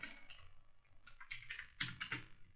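Sparse keystrokes on a computer keyboard as a board name is entered into configuration software, a few separate clicks and short clusters, quiet and close against a near-silent background.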